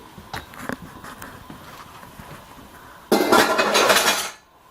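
Dishes and cutlery clatter in a home kitchen during preparation of turkey Milanese with mushrooms and artichoke hearts: scattered light clinks first, then a louder burst of rattling plates and utensils before it stops.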